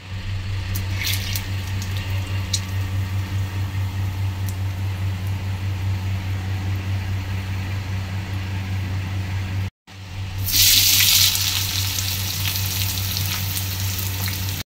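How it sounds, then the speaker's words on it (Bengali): Onions fry in a pan with a steady, close sizzle that runs evenly throughout, swelling briefly louder near the end after a short break; no one speaks over it. "আর এখানে এখন চলছে পেঁয়াজ ভাজা।"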